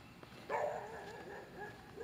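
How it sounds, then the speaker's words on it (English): A single dog barks at about mid-distance outdoors, one sharp bark followed by softer yips and whimpers, heard alone over a quiet background. "Dog barking because the dog doesn't know me."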